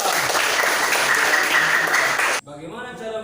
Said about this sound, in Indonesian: Tepuk tangan dulu sama kita.